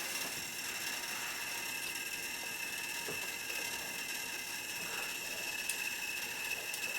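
A newly built desktop PC on its first boot, with a case fan giving off a steady mechanical rattling whir that runs continuously at a fairly faint level, with no speech.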